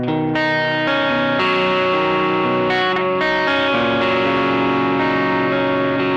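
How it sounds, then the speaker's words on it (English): An electric guitar plays a picked riff through a low-gain distortion effect, its notes ringing with a bright, sustained edge, each new pick attack clear, close and steady in loudness throughout. "So if I wanted to play like a low distortion picked part"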